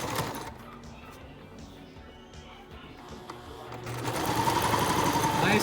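A sewing machine back-stitches a cloth mask with a steady mechanical whir that grows noticeably louder and busier toward the end.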